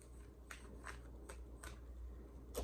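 Tarot cards being shuffled by hand, a quiet room with several short papery riffles and flicks spaced about every half second, soft and close, with no speech.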